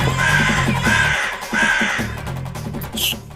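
Cartoon crow cawing in a comic animated scene: a string of loud, harsh caws repeating in quick bursts, close and alone with no talking, followed by a short high squeak at the end.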